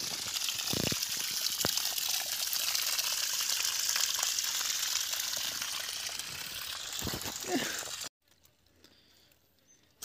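Water drains out of a container of chickpeas being cleaned of soil and pebbles, a steady rushing gush for about eight seconds that cuts off abruptly into near quiet.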